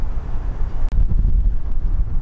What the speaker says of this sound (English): See that sign moving? It's very windy.